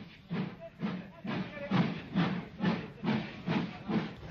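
A King Arthur class steam locomotive hauling the Southern Belle on the Southern Railway gives a steady run of strong rhythmic chuffs, about two per second, heard close on an old, band-limited recording.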